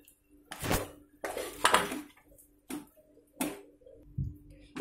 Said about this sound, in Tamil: நல்லா அழுத்தி கிளறினீங்கன்னா கொஞ்சம் கொஞ்சம் ரைஸ் இருந்தால் கூட அது நல்லா குழஞ்சி வந்துடுங்க